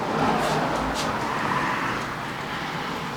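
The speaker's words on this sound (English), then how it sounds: "A casket van just drove by." A casket van drives past outside a woodworking shop, a steady broadband road rumble that swells and then eases slightly, heard at a moderate distance with no talking.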